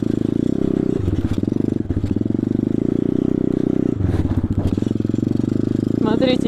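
Pit bike ridden through a snowy winter forest among fir trees, its engine droning loud and close with rhythmic revving pulses and clattering over rough ground.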